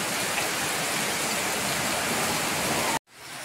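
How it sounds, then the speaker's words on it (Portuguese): A heavy rainstorm in Manaus pours down as a dense, continuous roar of water over a flooded outdoor aquaponics setup. It stays loud and steady for about three seconds, then cuts off abruptly. "Olha o que a chuva tá fazendo aqui, galera, no meu sistema."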